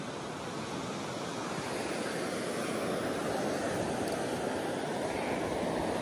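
Sea waves wash in steadily on Mandarmani beach, a loud, close, unbroken roar of surf with a faint breath of wind and no voices.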